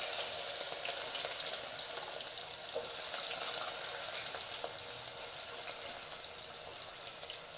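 Thinly chopped onion pieces frying in hot oil in a pan, giving a steady bright hiss and crackle with small pops, close and even throughout.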